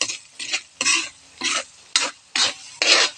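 Rhythmic scraping strokes of a utensil stirring and mixing in a pan while cooking lumpiang gulay, seven close, loud bursts at an even pace with short pauses between, no talking.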